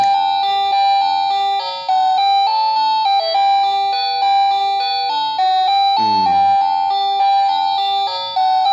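An AA battery-powered wireless doorbell plays a long electronic chime melody, bright bell-like tones stepping through a tune continuously with no talking.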